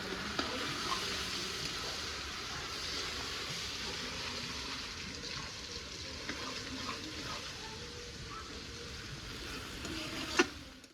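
Spice masala with tomato fries quietly in oil as it is stirred, a soft steady sizzle with occasional scrapes and one sharp knock near the end.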